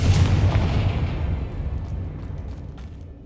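A Confringo spell blast in Hogwarts Legacy erupts as a loud, deep boom that rumbles and slowly fades over a few seconds, with no talking.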